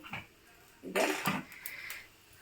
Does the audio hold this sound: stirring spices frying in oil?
yes